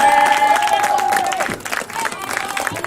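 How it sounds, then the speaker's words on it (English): A crowd at a football league event claps and cheers in a continuous wash of sound. A voice and music-like tones sit over it at first, and the noise stays fairly loud through the short stretch. "Give them a round of applause."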